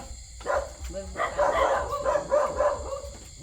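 A dog barks several times in quick succession, yelping barks with a whiny edge, at moderate distance over a low background rumble, with faint voices nearby.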